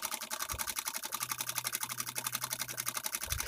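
A sewing machine stitching a folded fabric strip for a paavaadai drawstring runs in a steady, rapid, even rhythm of needle strokes, close and continuous throughout.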